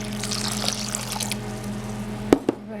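Water pours and trickles steadily into a flax mixture for raw sunflower bread under a low background hum, ending with a couple of sharp clunks.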